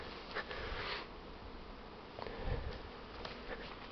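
A splitting first honeybee swarm of the season hums continuously around trees, a faint, steady buzzing with individual bees swelling louder as they pass near, and no speech.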